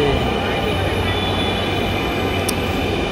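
A Dhaka metro rail train rolls into a crowded station with a steady low hum and rumble, close and continuous, a brief high squeal near the end.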